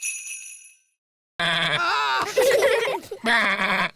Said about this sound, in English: What did the sheep say? The sheep said, "Bah."